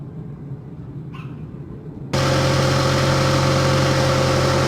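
A 2001 Ford Focus ZX3 engine with aftermarket headers and no catalytic converter kicks on abruptly after a quiet stretch, then settles into a steady, loud, close cold-start idle with a constant droning hum.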